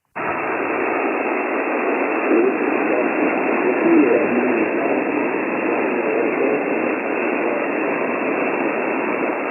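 Steady static hiss fills the 17 meter amateur HF band on a ham radio receiver, a loud, unbroken rush of noise with no voice coming through.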